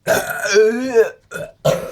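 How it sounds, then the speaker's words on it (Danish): A long, loud, drawn-out burp right up close, rising and falling in pitch, followed by two short voiced bursts, during a beer tasting among friends. "Du skal have mig bøvs."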